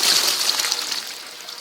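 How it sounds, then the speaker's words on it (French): Rainwater splashes and pours steadily over a rainwater filter and the tops of IBC tanks, a brief, continuous bright wash of water with no talking. "je fais ça pour un peu débourrer le filtre et rincer les dessus des cuves."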